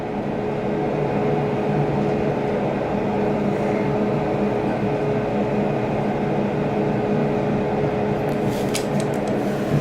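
A vintage Haughton traction elevator at the Moore Hotel in Seattle travels with a steady, loud mechanical rumble and hum that holds throughout, with a few faint clicks near the end.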